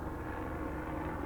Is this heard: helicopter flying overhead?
yes